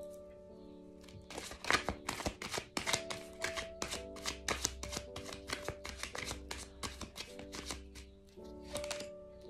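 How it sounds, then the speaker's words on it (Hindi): Tarot cards being pulled from a deck and laid down, a quick run of crisp card snaps and flicks close to the microphone, over steady soft background music tones. "जल्दी से और कार्ड यहाँ पे पुल आउट करते हैं."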